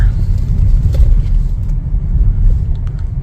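A 2025 Chevrolet Trailblazer LT on a test drive, its steady low road rumble and engine drone filling the cabin, continuous and fairly loud with no voices.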